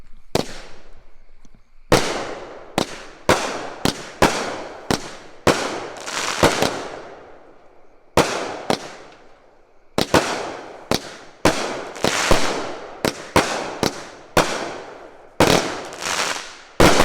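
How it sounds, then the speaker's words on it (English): Neon light firework cake going off outdoors, a long run of loud, sharp bangs and crackling bursts in quick irregular succession with brief gaps, close and dominant throughout. "neon light cake"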